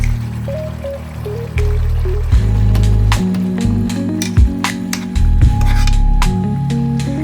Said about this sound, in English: after which I'm pouring it over the meat